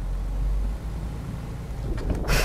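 A Land Rover accelerates off-road with extra throttle from the start, its engine a low, steady rumble that builds toward a louder burst at the end.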